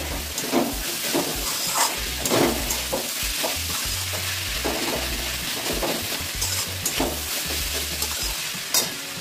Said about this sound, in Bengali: মিষ্টি দিয়ে একটু কষিয়ে নিচ্ছি।